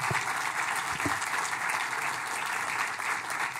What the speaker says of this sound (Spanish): Yo quiero pedir que repitamos el aplauso para el equipo que se sacó la mugre para hacer este video